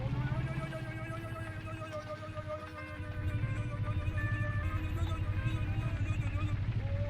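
A vehicle engine in the Scrap Mechanic survival game drones as a steady, tonal hum while a person talks over it throughout.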